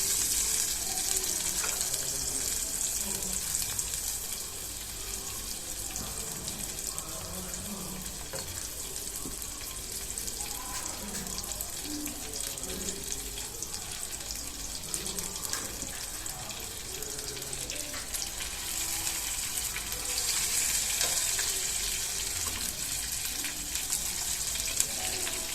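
Eggplant frying with masala in a pan over medium heat, a continuous soft sizzle and bubbling hiss with occasional faint crackles, steady and close, no talking.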